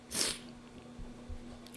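A single short, sharp sneeze bursts out near the start, then quiet room noise with a low steady hum follows.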